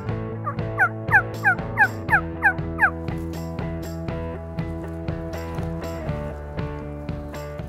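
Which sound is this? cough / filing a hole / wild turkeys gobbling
wild turkeys gobbling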